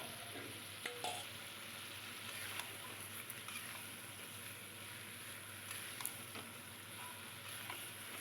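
Taro corms fry in hot oil in a pan with a steady, soft sizzle, broken by occasional light scrapes and clicks as they are stirred.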